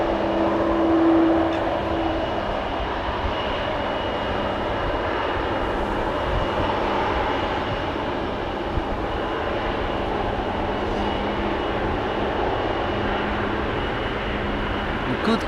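A KLM airliner departs Amsterdam Schiphol Airport on a flight to Vienna, a steady broad engine roar sustained throughout at moderate distance, with a faint tonal hum early on.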